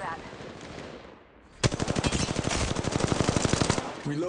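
Rapid automatic gunfire from the video game Apex Legends Mobile, a loud sustained burst of evenly spaced shots that starts abruptly after a quieter moment and runs to the end.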